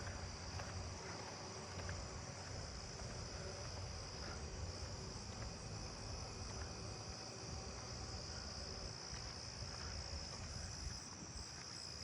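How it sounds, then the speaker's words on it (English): Southeastern field crickets chirp continuously in a neighbourhood at night, a faint, even, high-pitched trill with other insects around and no voices. "Some more southeastern field crickets."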